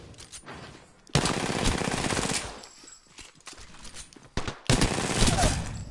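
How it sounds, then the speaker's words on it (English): Rapid video game gunfire in bursts, automatic weapon fire loud and close with brief pauses between volleys and a second heavy burst near the end. "Taking fire, friends."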